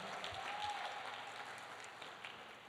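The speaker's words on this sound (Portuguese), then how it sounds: "Pode dar uma salva de palmas para esse casal muito amado." A church congregation claps for a couple in a dense, distant wash of applause, faint and steady throughout, without distinct individual claps.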